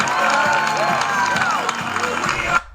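Wedding guests cheering and whooping as the groom comes out, a steady crowd roar with clapping and shouted voices throughout, cutting off abruptly at the end.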